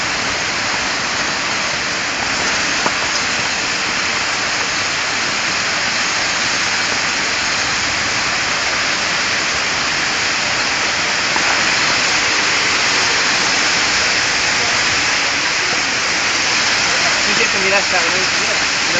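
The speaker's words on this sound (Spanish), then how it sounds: "Dios, mira cómo está la calle, es un río." Floodwater rushes down a city street in Elche during a heavy rainstorm, a loud, constant roaring wash like a torrent, steady and close for the whole stretch with no voices on top.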